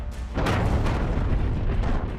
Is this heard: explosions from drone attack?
yes